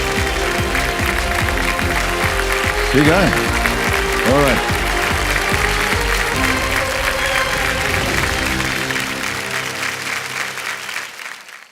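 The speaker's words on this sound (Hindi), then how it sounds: "तालियां बजती रहें इनके लिए" Studio audience applause on the KBC Hindi quiz show as a guest is seated, loud sustained clapping under a host talking briefly, with music swelling beneath and fading out near the end.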